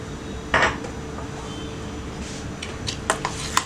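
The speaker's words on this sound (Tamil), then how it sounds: "இதை நல்லா கலக்கிடுங்க." Spoon mixing fruit yogurt in a bowl: a few clinks and scrapes against the bowl, sparse and close, with quiet gaps between them.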